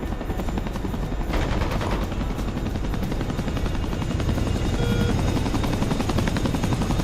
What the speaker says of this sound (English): I hear guns going off.